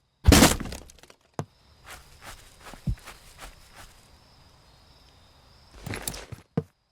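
In the video game Crime Simulator, glass shatters with a loud crash, followed by soft scattered footsteps and thuds, then another sharp crash and clatter of breaking glass near the end.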